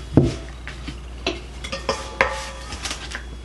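Plate handled while serving a fresh garden salad, with a sharp clink followed by several lighter taps and scrapes of dishware and cutlery at close range.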